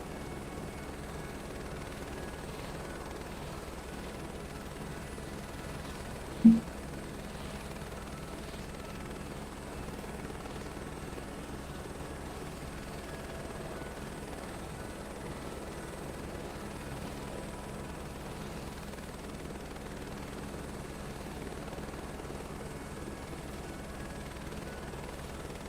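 Aircraft taxiing in Microsoft Flight Simulator, a regional jet on the ground: a steady, even engine hum and whine holding at constant level throughout, with one brief sharp click partway through and no talking.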